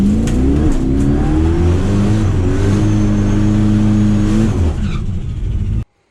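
A turbo race car does a burnout with its tires spinning. The engine revs loud and close in rising, stepped surges for several seconds, then cuts off abruptly into silence.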